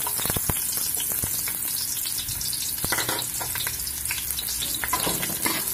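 Onions frying in hot cooking oil in a pan for ginisang bagoong, a continuous crackling sizzle with scattered sharp pops and stirring clicks, close and alone.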